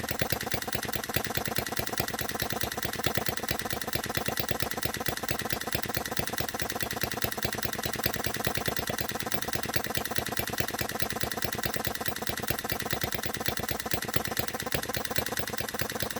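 A Vortrixe OKMO Z01 Morse Z 3.6cc hit-and-miss petrol miniature model engine runs steadily up close, giving a fast, even, rattling chug with no pauses.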